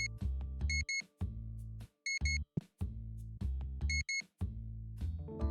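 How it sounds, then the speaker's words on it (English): Repeated electronic beeps from a TCG Card Shop Simulator video game, short bursts in quick pairs and triplets over a steady game tone, loud and close. "the beep beep sounds like just like in real life"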